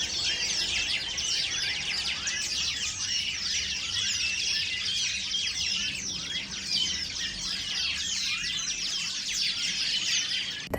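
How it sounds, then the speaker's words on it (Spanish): Many birds in a tree behind a house keep up a dense, continuous high chirping and chattering for about ten seconds, steady and fairly loud, with no talk. "Están llegando unos pájaros al árbol que hay detrás de mi casa y se pasan toda la mañana ahí chillando prácticamente."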